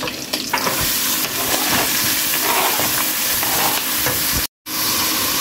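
Shrimp and chopped onion frying in a pan, a steady loud sizzle with scraping stirring strokes throughout, broken by a brief silence near the end.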